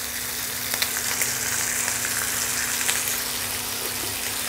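Nigella seeds tempering in hot oil beside pieces of hilsa fish give off a steady, close sizzle with faint crackles, unbroken and without any voices.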